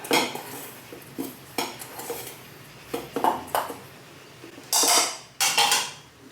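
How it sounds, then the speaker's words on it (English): A spoon clinks and scrapes in a bowl while mixing a Mexican mole spice blend, with a series of close, sharp metallic taps and a couple of louder scraping bursts near the end. "let's give that a stir"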